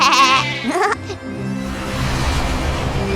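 A cartoon sheep in a green meadow gives a loud, wavering bleat up close, followed by a softer rising call and then a steady ambient background.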